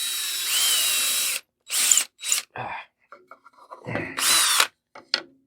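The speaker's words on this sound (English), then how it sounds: "I'm going to show you a drill hole here in the middle." An electric drill whirs in several short bursts, biting and grinding into wood between pauses, close and loud.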